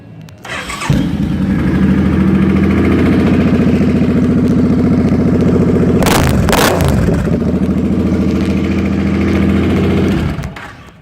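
A 2005 Suzuki Boulevard C50 motorcycle engine fires up and settles into a loud, throaty idle, with a couple of sharp revs midway before dropping back to a steady rumble.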